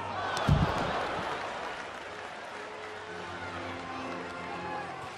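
A baseball stadium crowd keeps up a steady wash of cheering and clapping through a tense late-inning at-bat, with a brief louder burst near the start, then a sustained, moderately loud roar.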